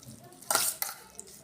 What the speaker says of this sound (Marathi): मी याच्यामध्ये मायोनीज घालत आहे एक मोठा चमचा घातलेला आहे तर हे व्यवस्थित असं मिक्स करायचं